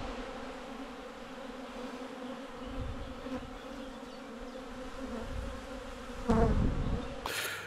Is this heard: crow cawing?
no